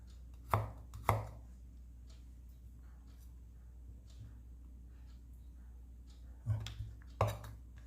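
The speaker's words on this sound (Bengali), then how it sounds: "আদাগুলোকে একটু ছোট করে নিচ্ছি যাতে মিশতে সুবিধা হয় মিক্সিতে।" Knife chopping fresh ginger into small pieces on a cutting board in a home kitchen, a few sharp isolated chops in pairs separated by quiet pauses, close and clear.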